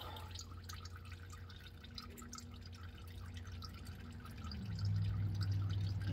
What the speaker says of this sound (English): I'm gonna have to let this drain down a lot because then we gotta get the oil filter off it.